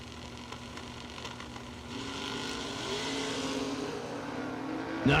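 Race cars, including an S10, run on a dirt racetrack at a season kick-off event, a distant engine drone gradually building and rising in pitch as a car accelerates, growing louder toward the end.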